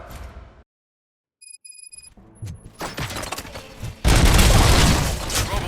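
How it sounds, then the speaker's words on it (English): Gunfire in the video game Robocop: Rogue City comes as a burst of loud shots and impacts after a brief silence. It builds into a dense, continuous barrage near the end. "Gunshots? What's going on?"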